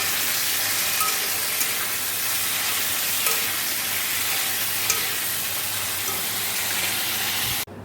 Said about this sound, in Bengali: দেখো ডিমগুলো সব ভাজা হয়ে গেছে, আমি আলুটা একটু ভেজে নিচ্ছি।